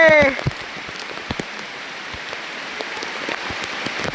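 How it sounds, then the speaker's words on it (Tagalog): Heavy rain falls steadily during a hike to the Kayangan Lake view deck in Coron, Palawan, a dense hiss of drops pattering on surfaces, with a brief voice at the very start. "Nag-hiking na sobrang ulan."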